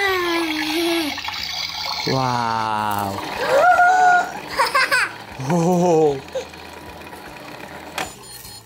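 A toy washing machine, a Christmas gift, runs with a watery, whirring churn alongside bright tonal toy sounds, while an adult and someone talk and exclaim over it.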